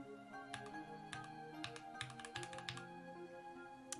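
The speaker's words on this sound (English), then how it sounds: "I'm curious how much you guys can hear my typing." Steady clicking keystrokes on a computer keyboard during an art stream, quick irregular taps close to the microphone over faint background music.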